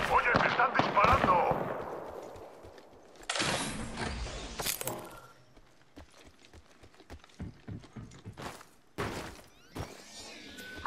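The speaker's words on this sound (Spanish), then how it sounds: "¡Oye, me están disparando!" Gunfire in the Apex Legends battle royale game: rapid, loud bursts of shots and sharp cracks, with a heavy roaring blast early, then scattered close single shots and impacts, a voice speaking briefly amid the action.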